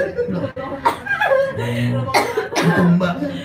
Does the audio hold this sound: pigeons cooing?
no